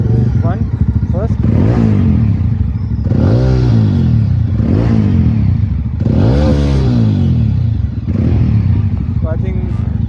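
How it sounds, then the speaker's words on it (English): A Mojo ABS 300 motorcycle with a dual exhaust setup and stock BS4 ECU idles close and loud, punctuated by four or five quick throttle revs that climb and drop back to a lumpy idle. "can we just listen to the sound of XT exhaust and this exhaust?"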